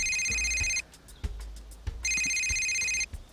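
An electronic telephone rings in a Breaking Bad episode in two long trilling bursts separated by a quiet gap with a few faint clicks and knocks, clear and fairly close.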